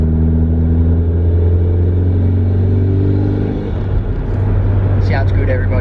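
Mitsubishi Evo with a new front pipe, dump pipe and screamer pipe, its engine droning loud and close at steady revs, easing and rising again, with a brief voice near the end.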